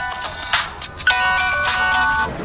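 Mobile phone ringtone from a Hindi-dubbed South Indian action film, a melodic electronic tune of repeated tones ringing steadily at moderate volume throughout, with faint background sound.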